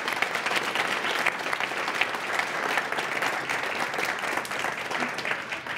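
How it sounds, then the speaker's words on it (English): A theater audience at a live magic show in a Chicago magic lounge applauds in a full, sustained wash of clapping from start to end, with no talking over it. "Big round of applause for you."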